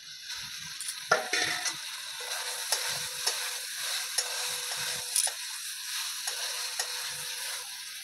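Frying potatoes dropped into a duck curry in a pan, giving a steady broad sizzle with scattered stirring clicks and taps, close and moderately quiet, with no voices.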